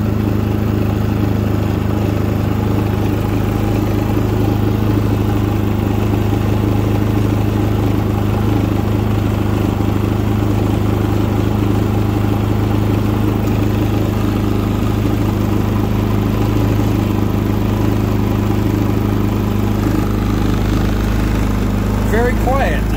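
A new Predator 3500 inverter generator runs steadily just after its first start, a loud, even engine drone with a constant low hum throughout.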